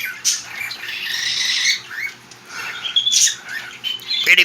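A female cockatiel squawks and chirps in repeated bursts, close and fairly loud, with short shrill calls and scratchy squawks separated by brief pauses.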